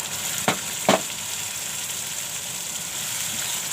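A ground paste of tomato, coconut, garlic and ginger drops into onions frying in oil, giving two sharp splashes followed by a steady, loud sizzle with no talk.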